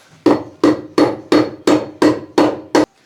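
A tool swung as a makeshift hammer lands eight hard, evenly spaced blows about a third of a second apart, each a sharp, close, ringing whack with nothing else heard.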